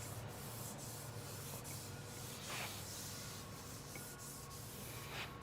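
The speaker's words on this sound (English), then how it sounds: "I'm just sanding with 800 quick." Steady rubbing and scratching of 800-grit sandpaper working over car paint, continuous and close but fairly quiet, with faint brief swipes standing out now and then.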